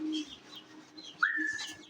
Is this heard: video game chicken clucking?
no